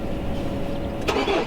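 A truck engine cold-starts at about 12 degrees, turning over and catching in a short burst, a rough mid-pitched rumble like a farm tractor rising close by.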